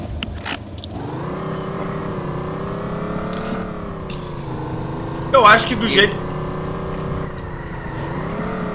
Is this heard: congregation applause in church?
no